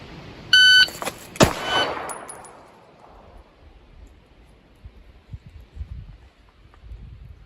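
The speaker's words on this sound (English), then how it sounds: "As soon as you hear the beep, you want to move." Electronic shot timer emits a single sharp start beep, a short steady tone near the start, followed shortly by a loud pistol shot and a decaying echo on a live-fire range, then quiet outdoor ambience.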